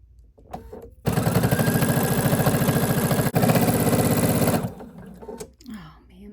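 A sewing machine stitches a minky and fleece blanket in a steady, fast rapid-fire whir lasting several seconds with a brief hitch midway, close and loud, with quiet handling sounds before and after.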